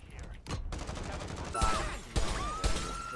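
Scattered shooting in a video game with capture-and-hold objectives, repeated sharp shots and thuds over a steady rumble of combat, with distant crackling fire in between.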